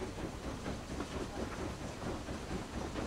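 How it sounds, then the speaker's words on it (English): A train passes in the video game Book of Travels as a steady rumbling, hissing roll with faint rhythmic clatter that holds at an even level throughout. "Oh, there's a train."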